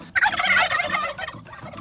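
Turkeys raised on a rural farm gobble loudly and continuously, several birds calling over one another in a dense, rattling chorus close by.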